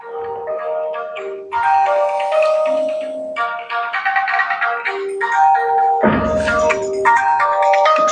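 A phone ringtone plays a bright, repeating melodic tune for several seconds in the middle of a psychiatry lecture, loud and close, with no talking over it.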